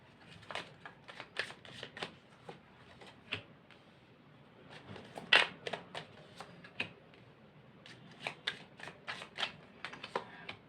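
Tarot cards being shuffled and drawn, giving a long run of crisp riffling flicks and slaps in uneven bursts, close and fairly loud, with no talking.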